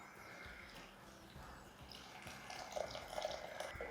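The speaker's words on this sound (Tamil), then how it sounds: "ஸோ இதில் தண்ணி விடலாம்." Water trickles and splashes gently onto a quarter kilo of coarsely cut cluster beans in a kitchen, a faint, close pouring sound that grows slightly stronger toward the end, with no talking.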